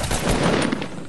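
Gunfire in a video game firefight, heard as a quick, loud, close burst of rapid shots over a dense noisy background, with no voices.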